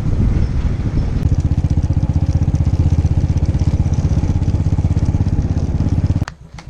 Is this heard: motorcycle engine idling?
yes